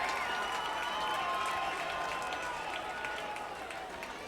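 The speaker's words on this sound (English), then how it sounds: "the fans give a loud cheer in front of us" Fans roar and applaud at a 2013 high school football state championship between Lake Highland Prep and St Andrews in Orlando, Florida, a loud sustained crowd cheer that eases slightly toward the end, with a voice faintly underneath.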